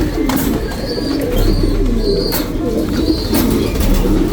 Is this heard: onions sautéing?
no